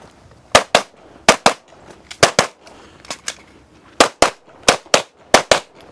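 Loud, crisp pistol shots at a USPSA shooting range, fired in quick pairs and short strings with brief pauses between them, close and sharp.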